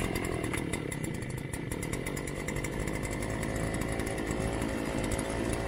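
A Harbor Freight Predator gas auger's small engine runs close by in a steady, buzzing drone, loud and continuous throughout with no talk.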